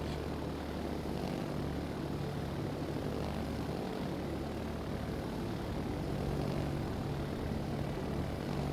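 Carrier aircraft in World of Warships: Legends drone past with a steady propeller engine roar, a constant low hum and buzz that holds evenly for several seconds at moderate level, with no talking.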